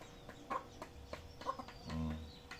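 Native hen clucking softly with newly hatched chicks, a handful of short peeps and clucks spread across a few seconds, close by and fairly quiet, with a low rustle beneath.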